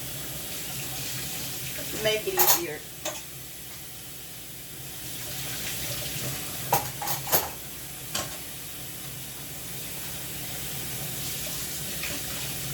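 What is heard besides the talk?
washing dishes at the sink with running tap water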